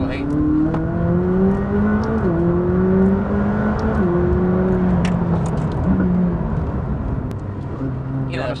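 A McLaren 600LT engine revs and holds its note in track mode, pitch stepping up and down with each shift, steady and close, with a voice briefly heard over it.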